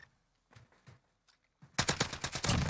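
Gunfire in the video game Call of Duty Warzone starts with a few scattered distant shots, then breaks into a loud, rapid automatic burst of close machine-gun fire at the end.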